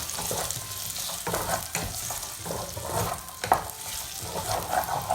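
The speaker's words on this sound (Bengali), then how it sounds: "সামান্য সতে করে নিয়ে" Sliced chicken sausage sautés in a pan for baked penne pasta, with a continuous close sizzle and repeated spatula scrapes and taps against the pan.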